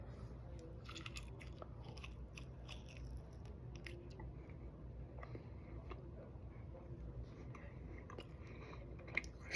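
Close-up chewing of smoked turkey tenderloin just taken off the smoker, steady wet biting and mastication with soft crunches throughout, no talking.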